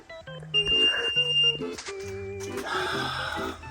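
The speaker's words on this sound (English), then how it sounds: "the obnoxious beeping that means the RoboVac has gotten stuck" Series of electronic beeps and chiming tones in a short melodic pattern from a stuck robot vacuum, fairly loud and close, with no talking.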